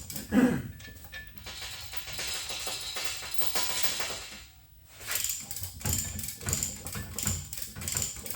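A come-along ratchet hoist is worked by hand during a power hacksaw rebuild, giving repeated close metallic ratcheting clicks in bursts with a short pause midway.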